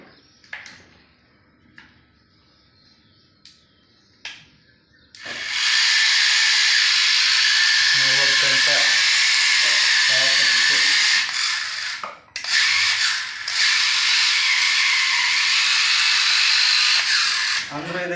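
A New Holland mini remote-control tractor with a 58 kg load capacity runs with a loud, steady high whine and hiss after a few quiet clicks. The motor drops out briefly and then resumes.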